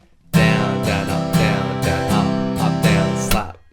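Acoustic guitar strummed in a song's dance breakdown pattern, down-down-up strokes broken by sharp muted slaps, a close, steady rhythmic figure played alone with no voice.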